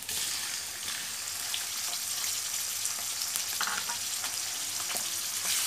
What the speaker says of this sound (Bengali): রেখে চিংড়ি মাছগুলো দিয়ে দিব।